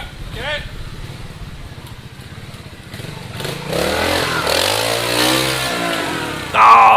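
A Montesa 4RT trials motorcycle revs hard on a greasy section at an outdoor trials park, the engine note rising and swelling loud and close, with a commentator talking over it.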